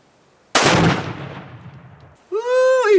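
A close, loud rifle shot cracks across open desert terrain and fades away, followed a couple of seconds later by a rising whine and hiss as the exploding target blows apart.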